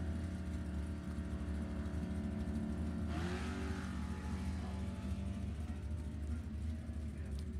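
A drag strip launch between a street-driven '99 Sierra and an '84 Mustang at a Halloween club race: steady engine drone, then a sudden loud broadband surge of revving as the cars leave the line and pull away.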